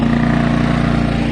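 An XTM 2000W inverter generator runs steadily at high idle with its eco throttle off, giving a loud, constant engine drone with a strong low hum throughout and no pauses.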